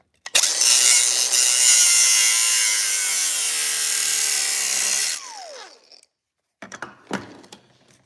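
A power tool grinds loudly and steadily through a seized nut on a roughly 4.5-horsepower chainsaw, cutting for about five seconds, then winding down, followed by a few short scraping bursts.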